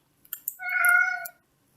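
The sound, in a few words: cat meowing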